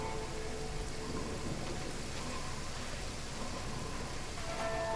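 Rain falling in the Genshin Impact video game, a steady, even hiss of dense raindrops with no voices over it.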